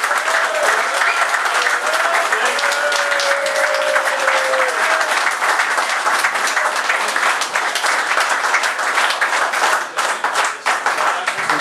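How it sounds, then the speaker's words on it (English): Loud, sustained applause from a crowd at an autumn festival fills the room, dense steady clapping with a brief voice or whistle rising above it early on. "another round of applause for Dick is much appreciated"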